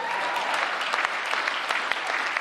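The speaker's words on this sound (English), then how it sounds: "So let's give the women another round of applause." A church congregation claps steadily, a moderately loud, even wash of applause with scattered sharper claps throughout.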